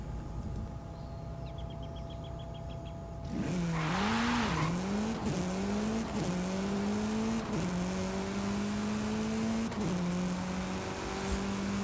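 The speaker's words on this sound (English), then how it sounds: "I will leave it 21 seconds because the Hoonigan RS200 has a quick acceleration rate" Hoonigan RS200 in a racing video game launches from a quiet idle into a loud, sustained engine roar with rising revs and repeated gear shifts, tire noise layered over the engine throughout.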